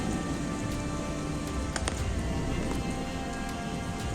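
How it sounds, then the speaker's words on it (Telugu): Light rain patters steadily at a Shiva temple in Maheshwaram, a dense hiss of drops with occasional louder individual drips close by, with no talk. "ఇక్కడ లైట్గా వర్షం అయితే పడుతుంది"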